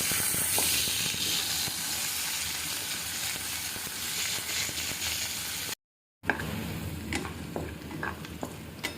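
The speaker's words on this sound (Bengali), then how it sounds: "পেঁয়াজগুলো এখন আমি বেরেস্তা করবো।" Sliced onions fry in hot oil until golden brown for a home-style duck curry, giving a steady, loud sizzle with occasional stirring clatter and a brief moment of silence.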